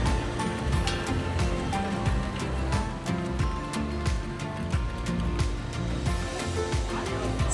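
Sea waves wash steadily along the shore at Tokashiki Island, Okinawa, a broad continuous surf noise with soft repeated breaks, moderately loud and close, with faint voices mixed in.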